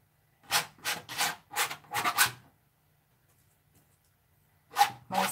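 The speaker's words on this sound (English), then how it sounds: "this sound of the scraping against the canvas with a palette knife" A palette knife scrapes across a painting canvas in a burst of six quick, rasping strokes, then silence, then two more close scrapes.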